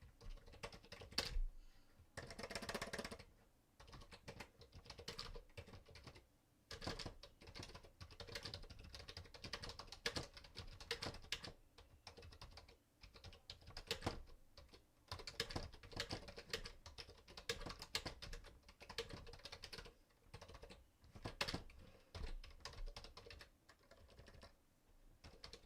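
Someone types on a computer keyboard in a home trading setup. The close, quiet key clatter comes in irregular bursts with short pauses for about twenty-five seconds, and no one speaks.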